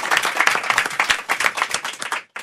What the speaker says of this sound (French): Applaudissements pour toute l'équipe.